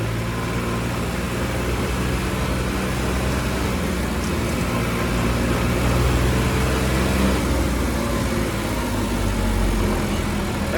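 Tractor engines at a large farmers' tractor rally against a land pooling policy near Ludhiana, a dense continuous rumble of idling and moving engines, close and steady with no clear voices.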